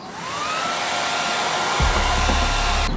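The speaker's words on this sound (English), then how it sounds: "what you want to do is you want to get like a hair dryer." A hair dryer blows continuously on a BMW E90 badge, a loud steady whoosh with a high whine, its tone shifting lower partway through.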